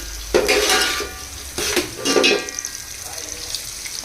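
Onions fry in a pan while a utensil stirs and scrapes, producing several clattering bursts of metal-on-pan contact over a soft sizzle, close and moderately loud.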